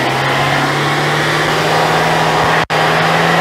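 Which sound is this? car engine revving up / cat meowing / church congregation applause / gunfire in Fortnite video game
car engine revving up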